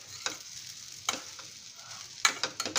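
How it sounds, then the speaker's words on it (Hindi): Vegetable vermicelli upma (sevai) stirred in a pan with the flame off, a spoon scraping in a few distinct bursts with quiet gaps and a faint sizzle between, close up. "और इसको अच्छे से चला के"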